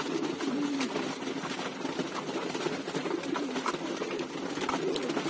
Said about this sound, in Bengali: কবুতর সবচেয়ে বেশি পছন্দ করে বর্তমানে ভুট্টা